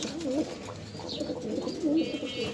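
Pigeons coo repeatedly at a pigeon farm, the soft throaty calls rising and falling in several overlapping bursts, close by, with light background noise throughout.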